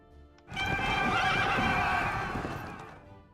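Cavalry horses in a Napoleonic-era video game battle whinny loudly in a single sustained neigh, close and clear, with faint hoof clip-clop beneath and no talking.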